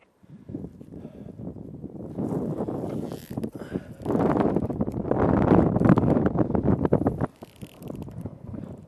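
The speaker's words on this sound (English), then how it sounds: "not quite enough wind and the direction's a bit crossed" Wind buffets the microphone during flying at the Broughty Ferry esplanade, a continuous low rumbling roar that swells louder through the middle of the clip and then eases off near the end, with no voices.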